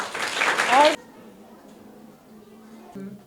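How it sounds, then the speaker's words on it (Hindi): Children and adults in a primary school classroom burst into a short round of close, loud clapping that stops abruptly after about a second, leaving a quiet room with faint speech. "ताली बजाइए इनके लिए।"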